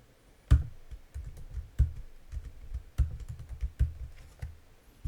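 Keys on a computer keyboard are pressed in a slow, uneven series of distinct clicks, about one firm stroke every second with lighter taps between, close and fairly quiet, with no voices.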